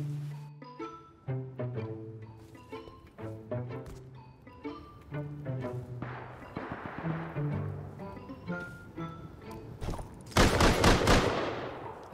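Automated turrets firing at a base in the video game Rust, scattered shots among tonal game sounds, ending in a louder dense burst, with no talk.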